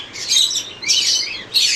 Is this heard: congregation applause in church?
no